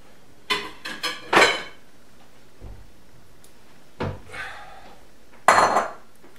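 Kitchenware being handled while grabbing a bowl, several sharp ceramic and metal clinks and clatters in short clusters separated by quiet gaps, close and clear with no talking.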